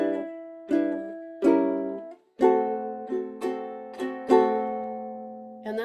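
Bright ukulele chords are strummed in a lilting island strum rhythm, about nine strums with ringing sustain, played alone and close.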